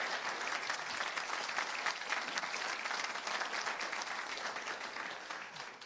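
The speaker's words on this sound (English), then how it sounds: "yes, a round of applause, I think" An audience in a lecture theatre applauds at the end of a talk, dense sustained clapping from many hands that tapers slightly toward the end.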